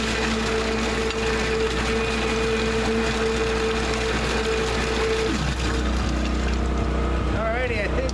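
A Liberty Omnivore grinder pump runs steadily in a container, chopping debris as it spins and draws particles back in, a continuous loud mechanical whir with a low hum whose pitch drops partway through.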